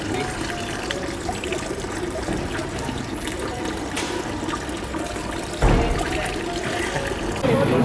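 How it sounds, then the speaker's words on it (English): Water runs steadily from a public drinking fountain spout in Rome, splashing continuously, with outdoor street ambience and a sudden louder gush near the end. "All right, this is how you drink water here."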